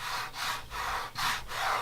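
Rough, rubbery Duplicolor truck bed coating rubbed in steady back-and-forth strokes, giving a broad scratchy friction noise in four or five close, even passes with brief gaps between them, heard alone.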